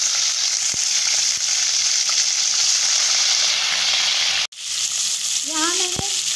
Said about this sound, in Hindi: अब मैं इसमें ऐड कर रही हूँ बोनलेस चिकन